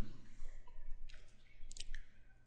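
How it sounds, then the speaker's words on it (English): A mouse click on a next button during computer setup, a couple of faint, quick clicks near the mic over low background hum, with no talking. "we click the next button"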